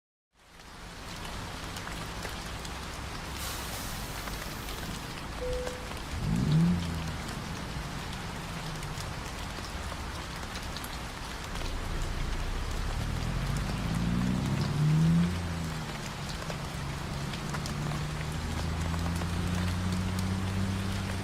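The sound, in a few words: rain in American Truck Simulator video game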